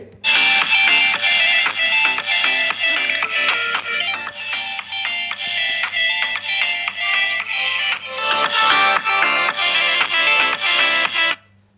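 A melodic ringtone plays loud and continuous for about twelve seconds through the Dolby Atmos stereo speakers of a Xiaomi 17T Pro smartphone, with most output coming from the bottom main speaker.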